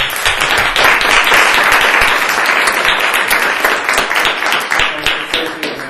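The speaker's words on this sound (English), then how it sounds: "I want to give a round of applause for the last panel." Dense, continuous clapping from a sizable crowd, steady and loud throughout, with faint voices mixed into the roar.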